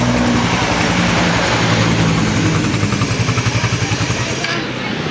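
A Suzuki Raider 150 Fi motorcycle engine runs close by with its throttle body open, giving a steady, fairly quiet idle with a rhythmic pulsing chug and a broad hiss of intake air.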